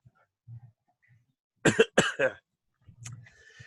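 A close burst of two or three sharp coughs rings out in otherwise quiet surroundings, followed by a softer throat-clearing sound.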